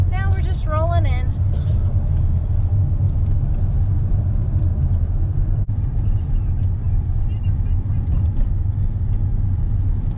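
A car rolls slowly along the road, its low steady rumble filling the cabin while a voice speaks briefly at the start.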